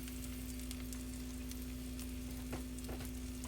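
Eggs frying in a pan for breakfast sandwiches, a faint continuous sizzle with scattered small crackles over a low steady hum.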